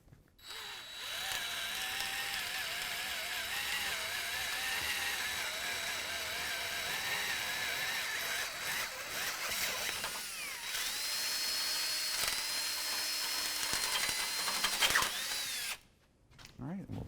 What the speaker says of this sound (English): Now we're going to use an 11/16 bit to make this hole a little bit larger here.